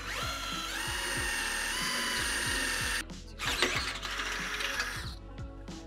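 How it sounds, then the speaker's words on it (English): A half-inch bit bores straight through a steel truck cross member on a Chevy Colorado ZR2/Z71. The drill whines steadily for three seconds, then the bit breaks through with rough, scraping grinding, loud and close, without speech. "I'm just using a half inch drill bit to allow room for our carriage bolt"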